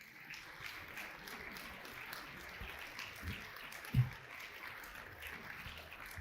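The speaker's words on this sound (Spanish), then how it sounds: "Y eso sí merece un aplauso." Congregation applauding during a church sermon on Holy Communion, a soft, distant patter of many hands clapping that holds steady throughout, with one brief thump standing out.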